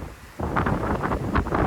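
Strong ocean wind sweeping across a cruise ship mini-suite balcony on the Diamond Princess: after a brief quieter moment, loud gusty buffeting rushes in and surges in close, uneven pulses.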